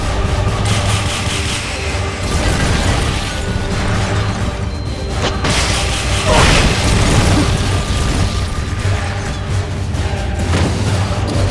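Rocket launcher fire and blasts in the Metal Gear Solid: Peace Walker video game, a dense, continuous barrage of booms, crashes and pops over a low rumbling bed, loud throughout.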